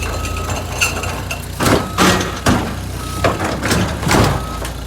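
A skid steer loader drives and reverses nearby, its engine rumbling loudly, with a steady reversing beep and several heavy clanking thumps at irregular intervals.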